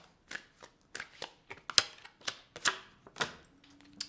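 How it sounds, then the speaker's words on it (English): Quick papery riffles and soft card slaps as tarot cards are shuffled at an uneven pace, close up and fairly quiet, with a few sharper flicks in between. "I'll do one more shuffle."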